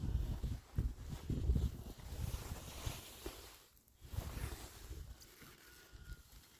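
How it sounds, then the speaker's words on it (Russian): Strong gusting wind at a country dacha garden, buffeting the microphone in uneven rushes and roars with brief lulls, faint and continuous. "ветер сумасшедший"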